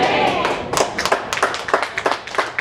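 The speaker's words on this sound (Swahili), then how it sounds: "Hiyo makofi ni kidogo sana." Church congregation gives scattered, fairly light clapping after a sermon, irregular claps building over a couple of seconds with a faint crowd murmur and no clear talk.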